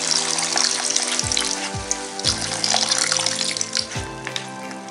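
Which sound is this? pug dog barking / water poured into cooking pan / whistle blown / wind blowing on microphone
water poured into cooking pan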